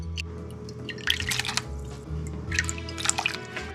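White wine vinegar poured from a quarter-cup measuring cup while making homemade Dijon mustard, giving close, soft liquid trickles and drips in several short bursts over a low kitchen hum.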